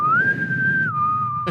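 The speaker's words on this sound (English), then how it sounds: "the stupid bosun whistles" A navy ship's bosun whistle blows a sustained shrill tone that steps down in pitch, then ends with a short sharp chirp, loud and close, heard alone.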